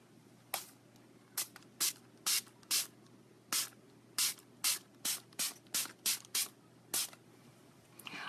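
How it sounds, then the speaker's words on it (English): A face-mist setting spray pumped in about fourteen short, crisp hissing bursts, close to the microphone, spaced unevenly over several seconds with brief pauses between pumps. "I'm just gonna mist my face with some mist and set."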